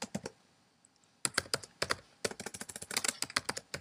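Quick clusters of keyboard key presses on a computer, typing a key combination, several sharp clicks in bursts after a quiet start, close and clear with no talking.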